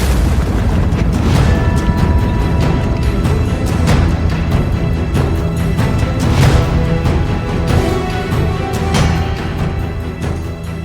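Repeated heavy booms from Iranian missile strikes on Tel Aviv roll through a dense, continuous rumble, several sharp blasts standing out over about ten seconds, loud and close, with no talk.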